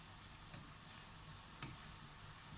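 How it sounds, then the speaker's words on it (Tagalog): Vegetables with green chili, cooked in coconut milk, sizzle faintly in a pan as they are stirred, with two soft scraping strokes against a steady low hiss. "And haluin din po natin ito ng konti"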